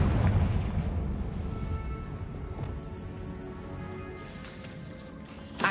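A Confringo fire-blast spell from Hogwarts Legacy on PS5 detonates with a loud, rumbling boom that dominates the opening, then lingers as a dense crackling roar that slowly fades, with a sharp burst at the very end.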